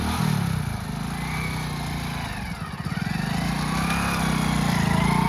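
A motorcycle engine hums steadily nearby, then dips and labours as the clutch is let out slowly and the bike pulls away, settling back into a steady drone as it moves off.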